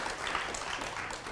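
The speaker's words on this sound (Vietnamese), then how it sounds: "Cho một tràng pháo tay nữa để Lá Chầu Xanh xuất hiện" An audience at a cải lương singing performance gives a continuous, even round of applause, a dense patter of many hands that fills the room at moderate level.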